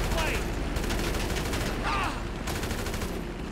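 Gunfire in Grand Theft Auto V, with repeated bursts of shots that keep up across the whole stretch along with some background game sound and a voice talking over it.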